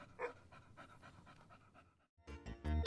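A police dog pants in quick, rhythmic breaths, close and fairly loud, with a heavier burst of breathing at the end.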